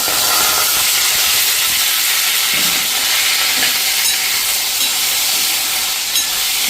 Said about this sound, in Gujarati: તો હવે રીંગણ નાખી દઈએ.